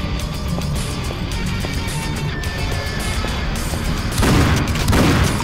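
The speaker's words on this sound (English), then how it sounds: "So we'll keep shooting the guy." Gunfire in the video game Painkiller Black, with repeated booming shots over a dense game soundscape, swelling into louder blasts near the end.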